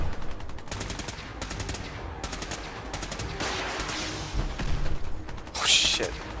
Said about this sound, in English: I can't believe you guys are actually shooting at me still.